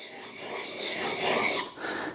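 A chisel is rubbed on a Trend diamond sharpening plate in a figure-of-eight pattern, giving a continuous close, gritty rasping scrape that swells and briefly dips.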